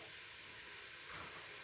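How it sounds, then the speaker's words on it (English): Food for a winter casserole sizzling in a pan, a soft steady hiss that swells slightly toward the end, close by and alone without talking. "Hear that sizzling away."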